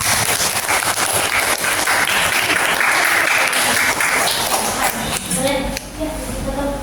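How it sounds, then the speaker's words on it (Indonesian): A classroom group receives applause, a dense burst of clapping from many hands that fills the room, carrying on steadily before tapering off near the end amid some shuffling and a voice. "Beri tepuk tangan."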